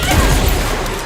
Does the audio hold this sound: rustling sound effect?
no